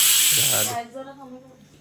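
A loud, sharp hiss of steam bursting from a pressure cooker for under a second, then cutting off as a voice speaks.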